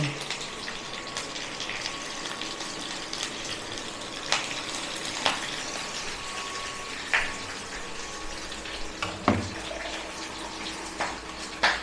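Curry leaves and mustard seeds fry in hot oil for homemade dhokla, giving a steady close hiss broken by scattered pops and crackles, with no talking.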